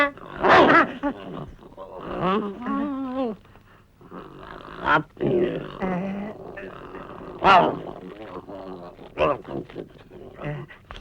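In a Tamil comedy film scene at a tea stall, a voice imitates a dog with barking and growling sounds, mixed with snoring-like grunts and loud, close, animated talk.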